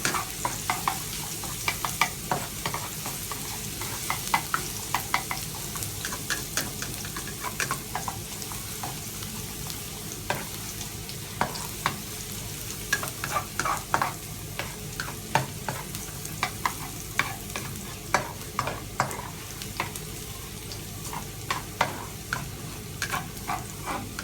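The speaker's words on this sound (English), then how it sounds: "you're going to saute your garlic until it looks golden brown" Garlic sautés over medium-high heat in a pan, a continuous crackling sizzle broken by frequent sharp scrapes and clicks of stirring, steady and close throughout.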